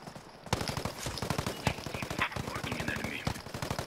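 Rapid bursts of automatic gunfire in a multiplayer shooter game, a steady run of sharp, fairly loud shots with brief pauses, and a voice talking over part of it.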